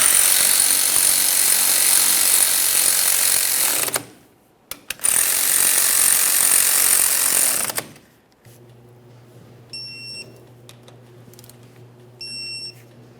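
A power tool tightens rear caliper mounting bolts on a 2004-2008 Ford F-150 in two loud, steady whirring bursts of about four seconds each, followed by quieter hum and faint beeps.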